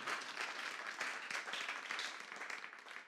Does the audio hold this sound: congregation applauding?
yes